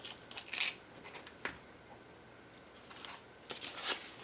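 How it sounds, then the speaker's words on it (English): Scissors cut duct tape into small pieces: a few quiet, crisp snips and tearing crunches at the start, one in the middle and a couple more at the end, with faint room hush between. "And I'm going to cut this duct tape into smaller pieces."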